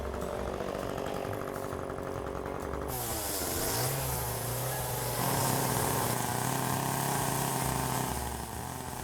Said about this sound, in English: I'm gonna come with the chainsaw and make a little separation here for the eyebrows.